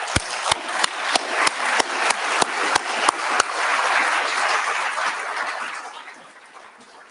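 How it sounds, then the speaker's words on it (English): Sharp, evenly spaced claps lead off, then a crowd at a science awards ceremony breaks into full applause that swells and gradually fades away. "we can give you a round of applause"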